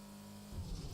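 A Skoda car in the GTA 5 video game, its engine note rising into a louder, rougher surge midway through a short, otherwise steady hum.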